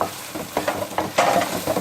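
Cut potatoes, three to four of them, tumble into a hot pan for a mixed vegetable sabzi and fry with a steady sizzle while being stirred, scraping strokes recurring every half second or so, close and alone.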